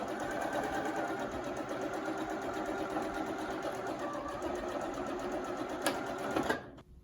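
A sewing machine stitches steadily across the top of a fabric face mask, a close, even mechanical whir that runs for about six and a half seconds and then stops.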